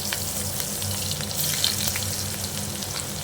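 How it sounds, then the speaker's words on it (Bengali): Onions frying in oil with asafoetida over low heat, a steady close sizzle with faint crackles and occasional stirring, with no talking. "ওটা আমি পেঁয়াজ দিলাম।"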